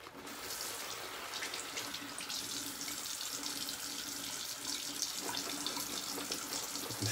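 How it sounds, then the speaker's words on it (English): Running water from a tap fills the space with a steady, fairly loud hiss and splash before being worked into a shaving brush, continuous throughout with no talking. "when I'm adding water to the brush, I just pick up a few drops with my fingers and add it directly to the center of the brush"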